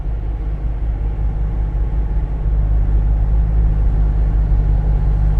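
A Jeep on large tyres rolls by, its engine a steady, loud low rumble that holds without a break and swells slightly toward the end, with no voices over it.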